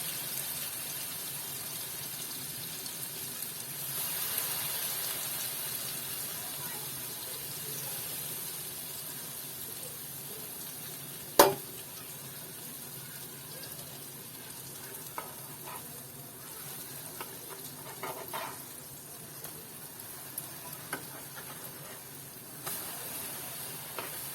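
Bread slices dipped in batter sizzle and fry steadily in a hot pan, a soft continuous hiss with occasional brief crackles and one sharp clatter partway through.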